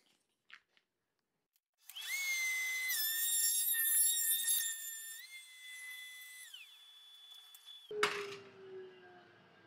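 A wood workpiece is fed through a power cutter in a furniture workshop. A steady whining mechanical roar starts after a quiet pause, shifts pitch midway, and ends with a sharp knock and a fading rumble as the machine runs down.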